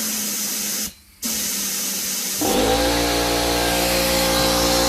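An ash vacuum blows air into a pipe, starting as a loud rushing hiss that briefly cuts out, then returns and swells into a louder, harsher roar with a tonal whine.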